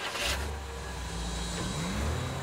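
A car accelerating and speeding away, its engine rumbling low and rising in pitch, fairly loud and steady.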